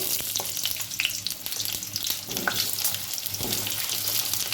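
Potatoes dropped into hot oil in a pan while cooking a Bengali shukto, a steady loud close sizzle and crackle of frying that runs throughout without talk.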